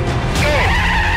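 A Volvo truck, built for a world speed record attempt, launches from a standing start on a runway, a loud, dense roar with tire squeal rising as it accelerates, all within about a second.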